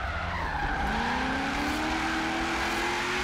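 A V8-swapped car of around 600 horsepower drifts through the streets in Forza Horizon 3. The tires squeal continuously over a revving engine whose pitch climbs steadily, loud and close, with no voices.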